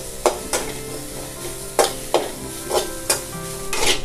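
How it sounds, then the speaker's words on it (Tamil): Dry coconut being stirred in a pan over medium flame, the spoon scraping in repeated sharp strokes roughly every half second over a faint steady background; no one talks. "இப்போ தேங்காவை நம்ம நல்லா வறுத்து எடுத்துக்கலாங்க"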